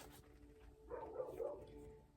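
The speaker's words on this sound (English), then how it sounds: "Sorry about those dogs next door." Dogs bark next door, faint and distant, a muffled cluster of barks rising briefly through a steady background hum.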